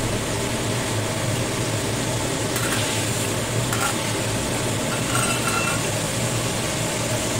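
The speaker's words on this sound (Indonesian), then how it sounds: "sebelumnya aku goreng terlebih dahulu. Goreng setengah matang aja." Chicken gizzards frying in a pan over a flame, giving a steady, dense sizzle and crackle that runs throughout at an even loudness, with a few brief scraping or stirring sounds.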